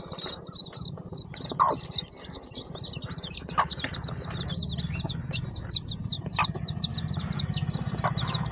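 A native hen defending her newly hatched chicks flaps her wings in bursts and clucks near, while chicks peep continuously in the background.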